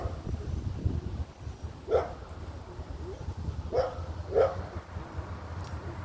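Dogs on chains barking outdoors, a few short separated barks at a distance over low rumbling background noise.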